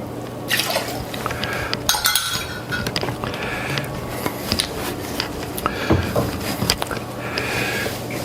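Rye whiskey pours for a cocktail in a close, liquid trickle, mixed with glass clinks and small knocks, at a moderate level with no talk.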